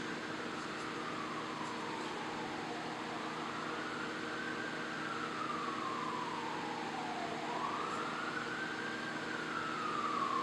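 A fire engine siren wails outside a church during a service, rising and falling in long slow sweeps, distant and muffled behind a steady indoor hum.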